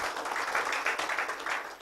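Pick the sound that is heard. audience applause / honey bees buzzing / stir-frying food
audience applause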